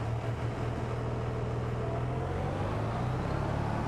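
Tractor engine in Farming Simulator 22, on the Iowa Plains map: a steady, continuous low drone with a constant engine hum and no change in pace, heard alone with no talk.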